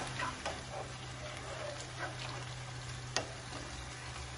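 Baby octopus is stirred in broth in a pan, giving soft wet scraping and sloshing with a few light clinks of the utensil over a steady low hum.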